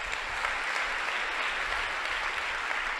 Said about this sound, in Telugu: చప్పట్లు కొట్టగలరు